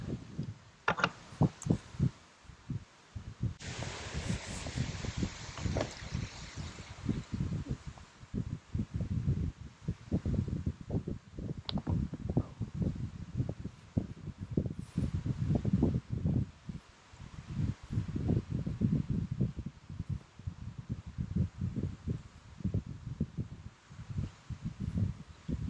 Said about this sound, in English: I gotta wait for the wind to die down a bit